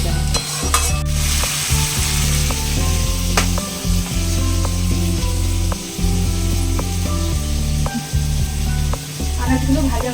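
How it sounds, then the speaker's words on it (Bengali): Vegetables fry and sizzle loudly in a pan while being stirred, with repeated scraping and knocking strokes over a constant crackle, plus a low mechanical hum underneath. "আনাজগুলো ভাজা হয়ে গেছে।"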